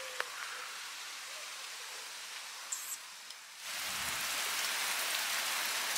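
Rain falls outdoors by a house, first as a soft, steady patter and then swelling into a louder, denser downpour after a few seconds, with a couple of faint knocks in between.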